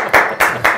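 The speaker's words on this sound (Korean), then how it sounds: "박수!" An audience applauds in three quick, loud, rhythmic bursts of clapping.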